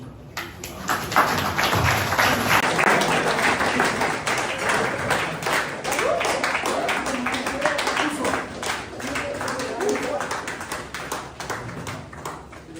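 An audience applauds Professor Wilson at the second Dr. Amos Sawyer Biannual Lecture, with steady, dense clapping sustained across the whole stretch and voices mixed in beneath it.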